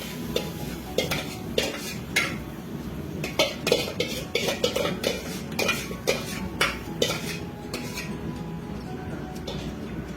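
Cabbage and pea vegetable mixture stirred in a pan with a metal spoon, giving repeated clinks and scraping strokes in an uneven rhythm over a light sizzle, near and fairly loud, with no talking.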